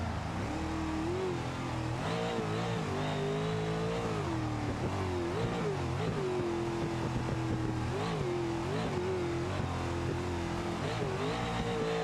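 A NASCAR stock car in BeamNG.drive, its engine revving up and down continuously as the throttle is modulated with heavy wheel spin, a loud droning tone rising and falling throughout.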